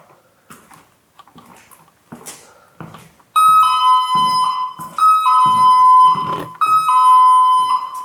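A motion-triggered alarm goes off in a hallway of the Gran Hotel Viena: a loud, piercing electronic tone in three long bursts, after quiet footsteps and low voices at the start.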